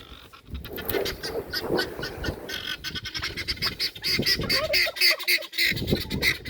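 Bird squawks and gobbling calls from a farmyard turkey being coaxed toward feed, repeated in a busy, fairly close series of sharp bursts with some background noise.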